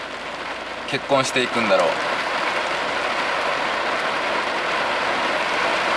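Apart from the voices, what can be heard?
rain falling on a parked car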